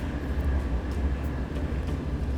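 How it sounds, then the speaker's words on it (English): A train rolls by at a distance as a steady, broad low rumble that fills the whole moment, heard from indoors without any distinct horn or clatter. "a train just passed by"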